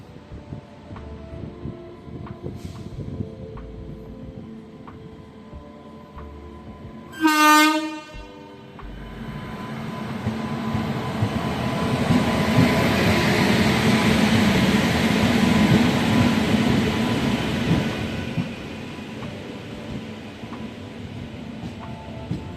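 At a remote railway station, a train sounds one loud horn blast, then rumbles past for a long stretch, swelling and slowly fading.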